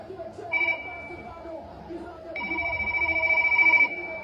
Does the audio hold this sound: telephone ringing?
yes